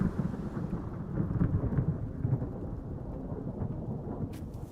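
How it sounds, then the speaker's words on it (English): Deep rolling thunder rumbles continuously through a lightning storm, heard from indoors with steady rain beneath it and no talking. "the fucking lightning is awesome"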